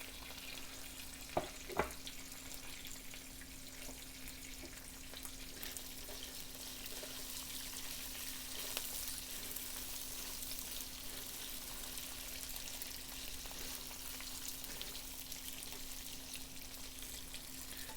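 Curry leaves fry in a pan with a soft, steady sizzle that holds throughout, broken by a couple of sharp clicks early on.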